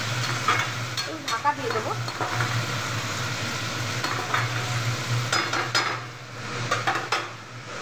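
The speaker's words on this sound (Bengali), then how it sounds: "আমি এখন পেঁয়াজ কলি, গাজর, শিম এইগুলো ভাজছি" Onion stalks, carrots and beans fry and sizzle in a pan, with steady crackling, stirring scrapes and occasional clinks of utensil against pan; a voice speaks briefly near the end.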